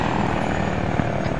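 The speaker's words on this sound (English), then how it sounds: "Is the helicopter friendly? The helicopter is friendly." An Apache helicopter in the combat game Blackforge Operations, a loud steady rotor and engine roar with a rough pulsing thump, close and continuous, no talk.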